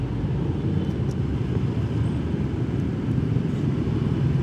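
Heavy stop-and-go traffic jam on a street at Warung Jati, a steady dense low rumble of car and motorbike engines filling the scene continuously without speech.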